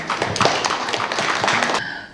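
An audience at a Korean art exhibition event applauds to welcome a senior woman artist, a dense burst of many hands clapping close and lively for about two seconds before it cuts off.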